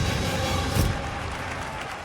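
A courtroom audience applauds Hitler's bold statement at his trial. The clapping comes as a dense, hissing wash of archival-sounding noise with a brief swell near the middle, and no voices are heard.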